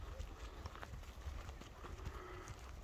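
Hooves of a large dark bay horse being walked for sale clop faintly in an uneven steady rhythm, with soft voices in the background.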